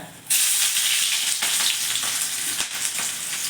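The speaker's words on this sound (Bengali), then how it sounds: "তারপরে দেবো আমি পেঁয়াজটা" Loud, steady sizzling of onions frying in hot ghee with whole garam masala, with a few scraping stirs, close up and continuous after a brief quiet start.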